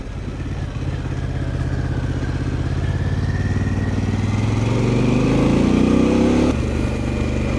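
A motorcycle rides a country road on the Kaiaua Loop in East Auckland, its engine droning close and steady before the revs climb, peak and drop off near the end.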